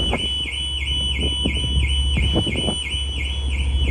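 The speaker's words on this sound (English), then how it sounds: "the car alarms are going off" Car alarms sound on the car deck of the CalMac ferry MV Loch Frisa between Oban and Mull, a steady repeating electronic wail with rhythmic clanks and knocks underneath.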